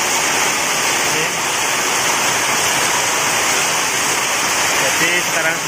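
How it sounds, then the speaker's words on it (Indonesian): Heavy rain pours down in a flooded street in Podorejo, Tulungagung, East Java. It makes a loud, steady, dense hiss that runs without a break throughout and drowns out other noise. "Ini hujan deras sekali, bos."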